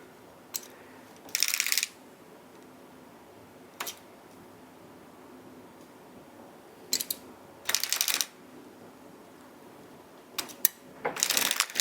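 Circular sock machine cranked around in short intermittent bursts of close mechanical clattering and rattling, separated by quiet pauses, with no talking.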